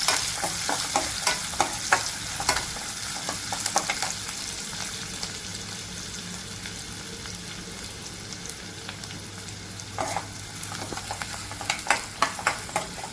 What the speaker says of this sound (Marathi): मी 1 कांदा चिरून घेतला होता तो, आपण याला तांबूस कलर रंग येईपर्यंत नाही परतायचं